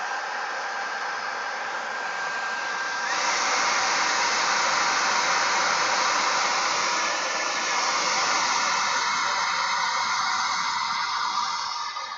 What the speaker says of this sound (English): Let's give this a quick blast with a hairdryer.